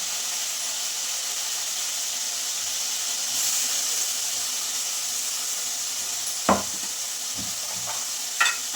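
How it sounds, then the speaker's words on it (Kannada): Onion, tomato and chilli sizzling in a hot pan during a blindfold cooking challenge, with a steady frying hiss and a couple of sharp scraping clinks from stirring near the end; no talking. "ಸೊ ಇವಾಗ ಅದನ್ನು ಕೈ ಆಡಬೇಕು"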